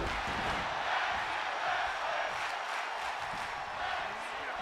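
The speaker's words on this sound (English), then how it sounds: "You can hear the crowd chanting tag team wrestling" Crowd at a tag team wrestling match making a steady, loud roar of voices that could be chanting, continuous throughout with no clear rhythm, with a commentator's voice faintly underneath.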